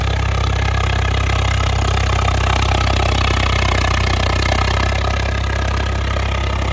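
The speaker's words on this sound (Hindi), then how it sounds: "मतलब इस ट्रैक्टर के साउंड है ना भाई" A tractor engine runs continuously with a deep, steady low rumble and rattling mechanical texture, loud and close throughout.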